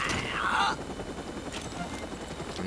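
A helicopter in the Watch Dogs video game whirs steadily in the background, with a brief louder burst of game sound early on.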